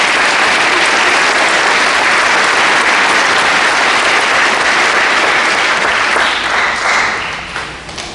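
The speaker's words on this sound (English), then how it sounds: "Let's give him a round of applause." A crowd at a high school graduation ceremony applauds loudly and steadily, a dense wash of clapping that holds for several seconds before tapering off at the end.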